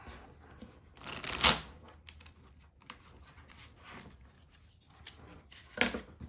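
Playing cards for a pro wrestling card game are shuffled close by in a few quick riffling bursts, with soft sliding and tapping between them and no talk.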